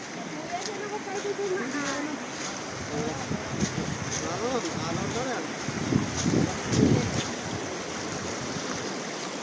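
River water at Mt Pinatubo rushing steadily under gusty wind, while people talk close by.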